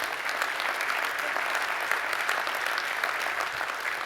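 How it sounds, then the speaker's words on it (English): An audience at a motivational talk claps for an organization: a steady wash of many hands clapping at once, even and unbroken, heard alone without speech and somewhat distant and soft. "let's give this organization a hand clap"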